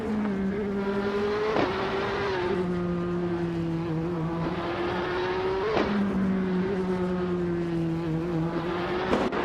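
Engine of a 2018 Ford Mustang GT4 race car in a racing game, a steady sustained drone with sharp upshift breaks roughly every four seconds, loud and continuous with no talk.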